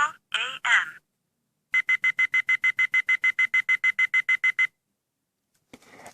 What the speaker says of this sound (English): you hear all those beeps because it's going faster and cycling through